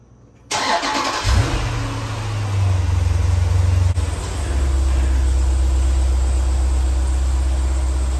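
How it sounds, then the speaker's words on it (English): A Jeep Grand Cherokee SRT WK2 engine cranks briefly, catches and settles into a loud, steady idle, heard up close and alone. "First thing we're going to do is start the vehicle up, and I'm going to take it for a little drive and get the fluids warmed up."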